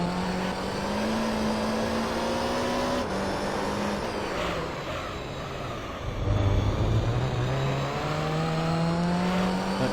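A Toyota Castrol Tom's Supra race car in Gran Turismo 3 holds a steady, loud engine drone, its pitch sliding up and down through gear changes, with a surge and deeper rumble partway through.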